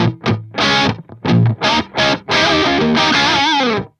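An electric guitar through an Axe-Fx III Recto amp model with the saturation switch on plays a short heavily distorted riff of choppy stabs and then sustained chords, loud and close with no talk.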